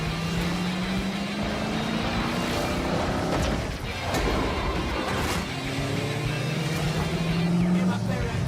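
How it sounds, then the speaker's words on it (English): Racing car engines from the video game Hot Wheels Infinite Rush roar continuously, with rising and falling engine pitches, sharp impact bursts and a steady loud mechanical drone throughout. "Hopefully the engine noises can drown it out now."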